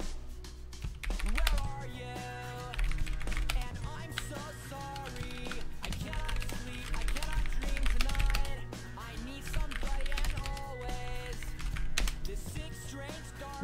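Rapid typing on a computer keyboard, clusters of clicky keystrokes heard under loud music and intermittent talking throughout.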